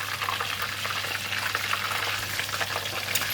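Fish deep-frying in a pan of hot oil, a steady dense crackling sizzle heard close up and alone for a few seconds.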